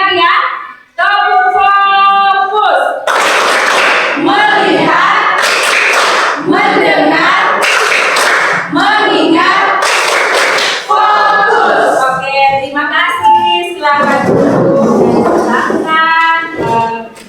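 A school class performs the "tepuk fokus" clap routine in a geography lesson, bursts of loud group clapping alternating with children chanting together.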